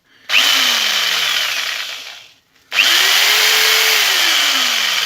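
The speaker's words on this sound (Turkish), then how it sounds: "Testeremiz bir ileri bir geri gidiyor." A jigsaw makes a straight cut through wood in two loud bursts, its motor whining steadily as the blade moves up and down, with a brief pause between cuts; no voices.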